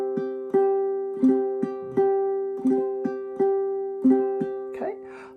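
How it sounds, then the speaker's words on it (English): A high-G ukulele is played clawhammer style in a repeating bum-ditty pattern: a ringing struck note followed by a quick brush and a thumb pluck, cycling evenly and played up close. "So the basis of clawhammer is all about this thing called the bum-ditty."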